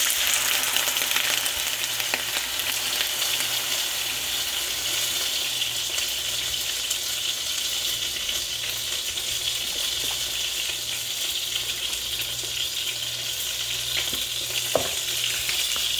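Heavy cream poured into a pan of sizzling garlic for fettuccine Alfredo, giving a steady, close, loud frying hiss that holds evenly throughout with a faint low hum beneath and no talking.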